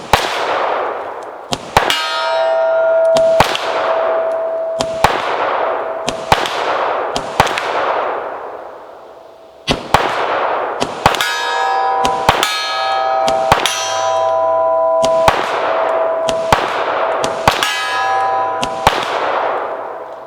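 Gunshots from a 10 mm XDM Elite pistol at an outdoor range, sharp loud cracks each followed by a ringing metallic clang off steel targets 100 yards away, about a dozen shots in uneven bursts with no talking.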